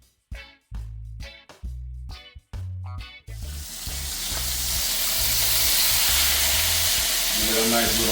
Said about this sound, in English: fry up the pork chop guys for about 3 minutes per side